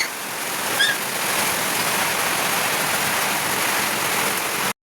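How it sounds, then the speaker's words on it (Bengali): Steady, dense hiss of heavy rain pouring down without a break, loud and even throughout, with one faint short chirp near the start. "এদিকে এত বৃষ্টি পড়ছে যে কি বলবো।"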